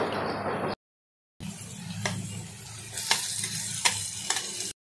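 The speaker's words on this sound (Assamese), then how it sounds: "নহৰু কেঁচা জলকীয়াও মই ভালদৰে ভাজি ল'ম।" Crushed garlic and green chilies sizzling with onions in a pan, a steady close fry broken by a brief silence, with a few sharp stirring clinks and scrapes over the crackle.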